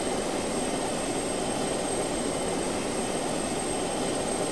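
A steady, loud airplane engine drone from a plane flying in the Just Cause 2 multiplayer video game, a constant broadband roar with no breaks and no talking.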